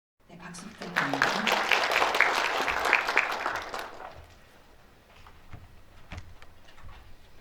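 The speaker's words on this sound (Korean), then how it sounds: "네, 박수 부탁드립니다" Audience applause at the Korea Journalists Awards ceremony swells from the start, holds for about three seconds and dies away, with a voice over the end and a few scattered claps after.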